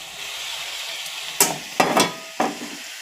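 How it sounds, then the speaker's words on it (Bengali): Capsicum sizzles in a hot pan with fried potato and carrot. Steady frying hiss runs underneath, and four sharp spatula scrapes and stirs come in an uneven rhythm near the end. "একটু নেড়ে চেড়ে নিচ্ছি।"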